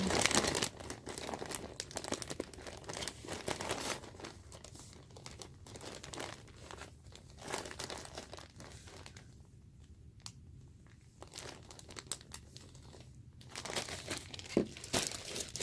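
A very full plastic bag of beads handled close up, crinkling and rustling in irregular bursts that ease off to quieter moments midway and pick up again.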